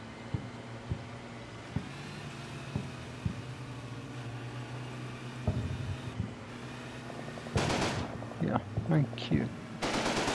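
A .30 cal machine gun opens up in the Combat Mission: Battle for Normandy war game, with two short, loud bursts of fire near the end over a steady low hum and faint clicks.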